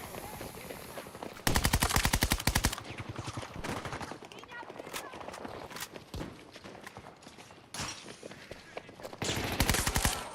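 Rapid automatic gunfire in a video game shooter, several loud rattling bursts and scattered single shots over a busy background of game noise, with a voice talking at times.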